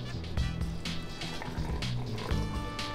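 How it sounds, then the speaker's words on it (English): Vinegar, water, salt and sugar pickling liquid pours into a jar of pickles, a steady close liquid fill with faint dripping throughout and no talking. "Now we're gonna add our vinegar, water, salt and sugar mixture,"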